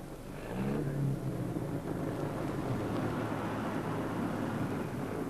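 Jaguar D-type race car engine on the Le Mans circuit, recorded from inside the car: a steady, dense roar with wind rush, pulling away from the start and holding a constant drone.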